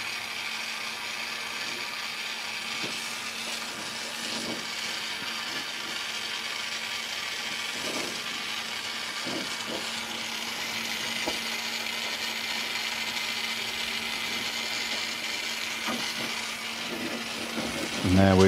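An acetylene torch heats a copper-to-copper joint for brazing, a steady low roaring hiss that goes on for the whole stretch. Scattered light metallic clicks and handling noises sound over it, and a speaking voice sits faintly in the background.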